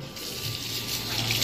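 Water runs steadily from a tap into a sink as hands are washed, a continuous close splashing rush with no speech.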